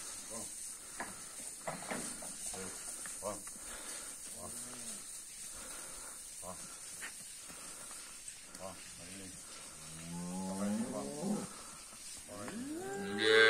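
A cow at a cattle auction lot lets out a drawn-out moo near the end, with a quieter lowing before it, over background murmuring and a steady hum.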